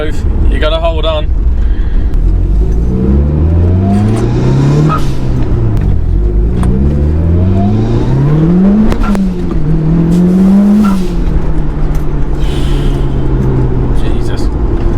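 A 518bhp four-wheel-drive Mitsubishi Evo 5 accelerates hard, its engine note climbing repeatedly through the gears with rising whines and shift breaks, loud and close, while a person talks over it.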